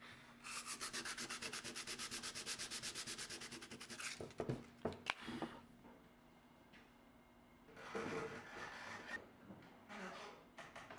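Chisel scraping old finish off a wooden mid-century dining table, heard as a fast run of rhythmic rasping strokes, then a few separate sharp scrapes, and later more rough scraping, all fairly close with no talk.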